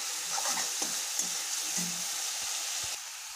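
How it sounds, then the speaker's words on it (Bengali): Spice masala sautéed with pieces of fried fish in a pan, a constant close sizzle with soft low scraping stirs recurring every half second or so, no talk. "ভেজে রাখা মাছ ভালো মতো এখন মশলা টানা কষে নিচ্ছি।"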